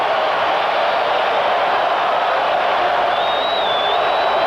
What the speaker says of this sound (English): And now this crowd that has been so quiet since the 3rd inning comes alive.